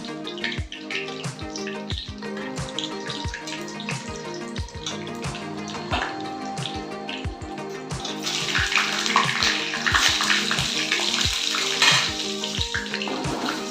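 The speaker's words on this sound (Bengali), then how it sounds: "আমি আলুগুলো এবার ভেজে নেব" Potatoes fry in a pan of hot oil with cinnamon and cloves. Regular tapping runs throughout, and a loud bubbling sizzle swells partway through and stays strong.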